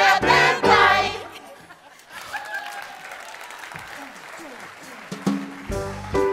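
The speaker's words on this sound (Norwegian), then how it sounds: "Applaus." An audience at the Skienrevyen 2020 revue show in a theater claps through a stretch of applause, with bursts of stage music at the start and end.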